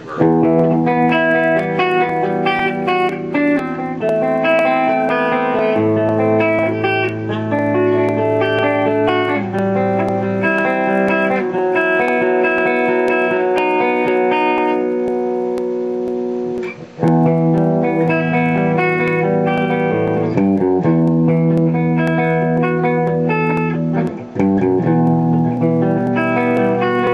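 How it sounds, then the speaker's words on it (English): Electric guitar played through a Marshall Valve State VS100 amplifier with analog spring reverb, chiming chords and sustained notes ringing loud and continuous for almost the whole stretch, with a brief gap near the middle. "It's natural spring, so it's not like your newer Marshalls that use that digital reverb. This is real analog reverb."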